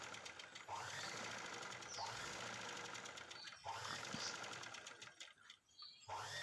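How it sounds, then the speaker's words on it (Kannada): An old sewing machine stitches a blouse in a steady, close whirring run that pauses briefly twice and stops near the end before starting again. "ನಮ್ಮದು ತುಂಬ ಓಲ್ಡ್ ಮಿಷಿನ್ನು, ಆದರೂ ತುಂಬ ಚೆನ್ನಾಗಿ ವರ್ಕ್ ಆಗ್ತಾಯಿದೆ."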